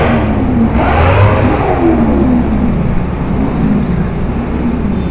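A motorcycle, said to come from a Kawasaki workshop, revs loudly on a congested city street in Manado; a close, continuous engine roar rises and falls in pitch with steady traffic noise behind it.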